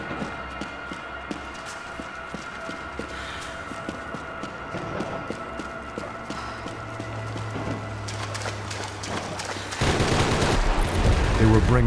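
Online Max Payne 3 gunfire, bursts of rapid shots and scattered single cracks over a busy game soundtrack, growing denser and louder in the final seconds.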